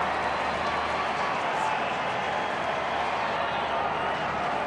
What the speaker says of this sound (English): Crowd's starting to make some noise now